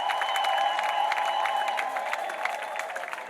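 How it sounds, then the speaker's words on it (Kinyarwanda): Church congregation at an ADEPR night prayer service breaks into sustained applause mixed with crowd cheering and high ululation, a dense, continuous roar of clapping throughout. "Komera Imana amashyi yivugiriza n'impundu."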